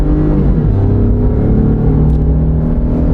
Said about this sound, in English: The turbo just kicked in.